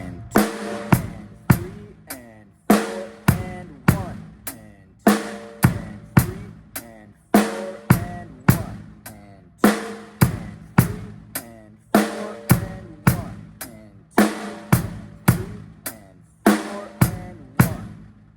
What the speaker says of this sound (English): we're going to loop back and play a kick drum directly on 1 again